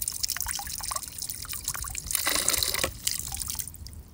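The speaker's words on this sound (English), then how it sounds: "when I turn this on, you'll hear that the fountain turned just on." An outdoor garden fountain, switched on through a smart outdoor plug, runs with a faint, steady trickle and patter of falling water, briefly swelling into a fuller splash midway.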